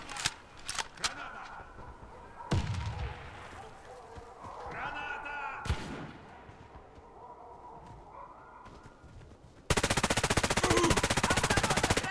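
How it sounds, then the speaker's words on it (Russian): Explosions and gunfire in the Warface shooter game: several sharp bangs and bursts through the first half, a heavier blast near the middle, then a loud sustained burst of rapid fire near the end, with voices calling out among the shots. "Граната пошла! Граната пошла!"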